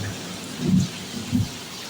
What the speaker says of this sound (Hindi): क्या तेज बारिश, कैसी बारिश है रही है तेज।